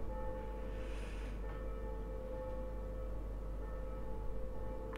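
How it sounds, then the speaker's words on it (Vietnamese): A church bell rings faintly in the distance, a couple of soft metallic strikes over a steady low hum and background noise, with no talk. "Cái tiếng chuông nhà thờ làm cho tôi hơi phân tâm chỗ này."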